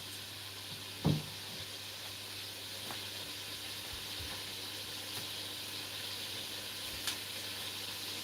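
Onions frying in a pan give a steady, faint, even sizzle throughout, with one soft thump near the start and a few light ticks later.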